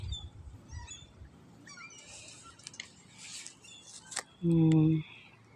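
Small birds chirp faintly in a village outside Moscow, with thin scattered calls in the background, quiet rustling and voices, and a loud sustained tonal burst near the end.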